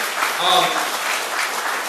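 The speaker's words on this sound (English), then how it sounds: "Let's give both chiefs a big round of applause." Crowd at a Chinese community town hall in Houston on recent robberies applauds two police chiefs; a brief, steady wash of clapping with voices overlapping.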